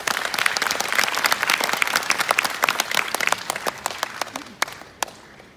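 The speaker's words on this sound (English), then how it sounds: "Give yourself a round of applause for being here." A round of applause from attendees at a business training event, with dense, loud clapping and crisp individual claps that thins out and tapers to a few last claps at the end.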